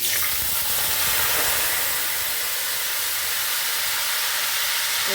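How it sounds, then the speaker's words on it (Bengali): Asafoetida dropped into hot oil for a potato and chana dal dish gives a loud, steady sizzle and hiss that stays constant throughout, with no voices. "এইবার আমি একটু তেলের মধ্যে হিং দিয়ে দিচ্ছি"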